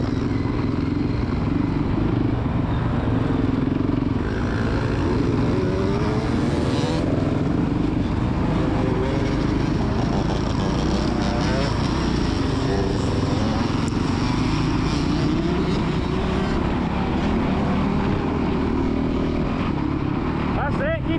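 Kids' motocross motorcycles rev and run around the Astley MX main track, a continuous engine drone that swells and fades as bikes pass, with an adult shouting encouragement over the noise.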